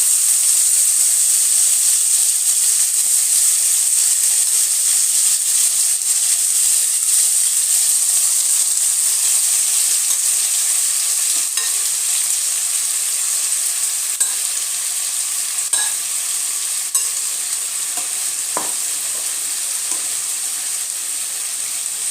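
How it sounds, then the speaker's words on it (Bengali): Cauliflower florets frying in hot oil in a wok for fulkopir paturi, a steady, dense sizzle that holds loud and even throughout, with a few faint stirring clicks near the end and no talking. "এবারে আমি ফুলকপিগুলোকে এর মধ্যে দিয়ে দেব"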